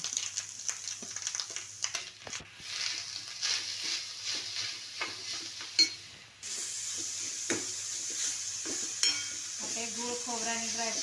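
A spoon stirs and scrapes a modak filling of grated coconut, jaggery, cardamom and fried dry fruits in a pan, producing irregular clinks and scrapes over a faint background sizzle.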